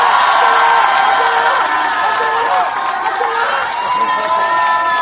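A political rally crowd cheers a candidate, a loud sustained roar of shouting and whooping voices that stays dense and steady throughout, with no single speaker standing out.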